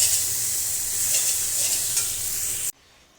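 Leafy greens (shak) fry in a pan with a loud, close sizzle broken by stirring scrapes, then cut off abruptly near the end.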